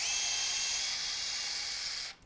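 A Festool OSC 18 cordless oscillating multi-tool cuts out a nailed wooden jack rafter on an old roof with a loud, steady, high-pitched buzzing whine that stops abruptly near the end.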